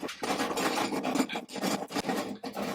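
A screw is turned in by hand during an improvised lawn mower repair, giving close, repeated rasping scrapes in short bursts with brief pauses between turns.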